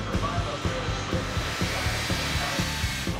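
Steady broadband roar of a Lockheed C-5M cargo aircraft's jet engines, with engines like a 757 jetliner's, a continuous whooshing wash with faint soft thumps beneath.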